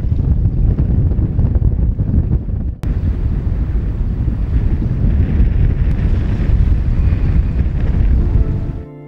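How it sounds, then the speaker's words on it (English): Strong wind roars steadily across a sailboat at anchor in a reef anchorage at Minerva Reef. The loud, continuous gusting and microphone buffeting fill the clip from start to finish, with no voices. "Wind's come up again."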